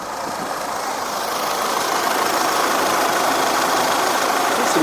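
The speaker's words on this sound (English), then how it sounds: "let it idle for 1 minute and then we turn it off for an hour" An Audi car engine idles after a valve cleaning, giving a steady, fairly loud hum that stays even throughout with no talk.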